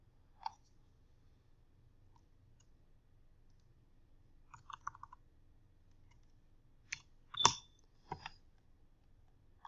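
Sparse computer mouse clicks and a few soft keyboard taps during an Eclipse setup, isolated sharp ticks spread over quiet room tone, one brief cluster near the end.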